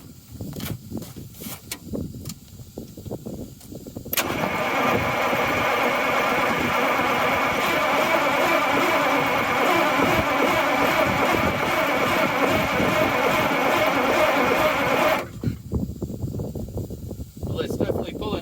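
A bus diesel engine, freshly fitted with a Davco fuel filter, cranks and catches, then settles into a steady, loud rumbling idle for about ten seconds before cutting off, with a voice talking before and after.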